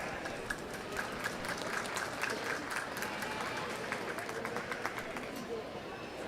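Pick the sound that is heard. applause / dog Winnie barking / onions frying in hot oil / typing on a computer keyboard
applause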